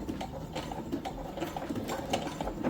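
A sewing machine runs steadily, back stitching through synthetic leather at a 1 cm seam allowance while making a boxy pouch; the motor and needle whir continuously, close and moderately loud, with no talking.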